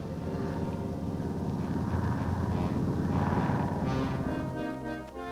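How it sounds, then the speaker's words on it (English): Steady droning engine rumble of a military reconnaissance plane flying overhead, loud and continuous with a slight swell near the middle, no speech. "A reconnaissance plane keeps watch overhead."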